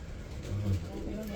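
Andijan pigeons, an Uzbek breed, give a brief low coo midway through a short stretch of steady background murmur, close and fairly quiet.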